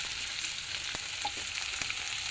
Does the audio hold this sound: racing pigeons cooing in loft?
no